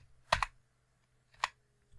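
A computer keyboard being typed on, two short bursts of crisp key clicks separated by a quiet pause.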